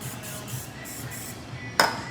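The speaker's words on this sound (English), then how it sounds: "so now I'm gonna spray these." Cooking oil is sprayed onto keto fish in one short, sharp hiss near the end, standing out over a steady background hum from the kitchen.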